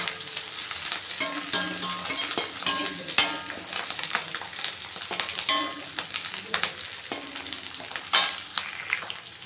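Pirandai (adamant creeper) sautéing in hot oil, with crackling sizzle under frequent clattering scrapes and knocks of a ladle stirring against the pan.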